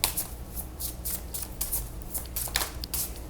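Tarot cards are shuffled by hand, a close series of crisp riffling bursts and flicks repeating unevenly throughout with no talking.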